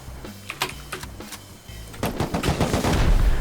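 Rocket fire in the survival video game Rust: a series of sharp, punchy bursts crack out, then a dense, louder rumble of blasts builds and holds toward the end, with no talking.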